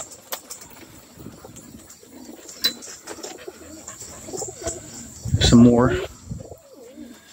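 Roller pigeons coo outdoors near the birds, a soft bubbling coo swelling loudly late in the clip, with scattered chirps and someone speaking briefly in between.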